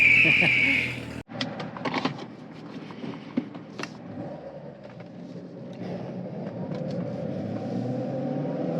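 A Corvette C7 Z06 cruising at normal speed with its exhaust valves closed gives a steady, moderate low engine drone from inside the car, with a few brief clicks and knocks near the start.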